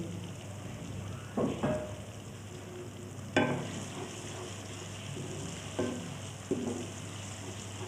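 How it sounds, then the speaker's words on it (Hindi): Tomato, onion and garlic frying in a pan with a steady low sizzle, broken by a few sharp clatters of stirring at irregular moments; no voices. "टमाटर को, प्याज को और लहसुन को मैं अच्छी तरह भून लेती हूँ।"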